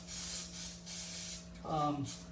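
A short, steady aerosol hiss of starter fluid sprays continuously on a Pontiac Fiero, ending with a brief clattering noise.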